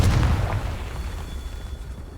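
A Confringo blasting spell explodes in Hogwarts Legacy, giving a loud, deep boom at the start that rumbles and fades into a lingering low tail, with no talking.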